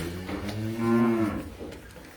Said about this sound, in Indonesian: Sapi putih, sapi peranakan ongol.